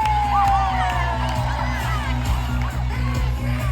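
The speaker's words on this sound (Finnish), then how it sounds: "Annetaan isot aplodit videovalmentaja Samuel Vilkanen!" A large outdoor crowd celebrates Finland's ice hockey world champions, with cheering, whoops and shouts over a steady hum of clapping, while a rising tonal sweep and amplified sound play through the noise.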